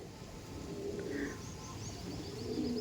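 Andhra pigeons coo softly amid a busy background hum, with a few faint chirps and a low murmuring call drifting in and out.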